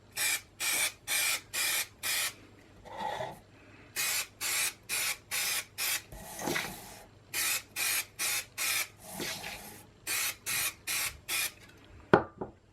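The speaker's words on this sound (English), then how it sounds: "you should spray in a well ventilated area, even if it's something like spray mount" An aerosol can of spray mount adhesive sprays in a steady series of short hissing bursts with brief gaps between them, close and fairly loud, pausing now and then before the bursts resume.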